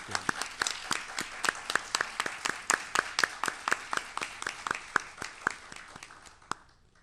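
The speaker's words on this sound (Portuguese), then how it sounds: "vamos começar essa reunião com uma bela salva de palmas por essa mulher maravilhosa que é a Lígia Fagundes" Applause greets the author Lygia Fagundes Telles at a meet-the-author event, sparse and distinct claps ringing out in a steady rhythm from a small audience, thinning and stopping near the end.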